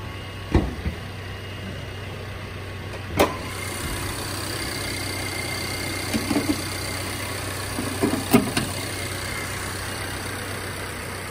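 The 2.0 liter engine of a 2019 Subaru Impreza idles steadily at close range, a low even hum that runs throughout, broken by a few brief clicks and knocks and with no talking.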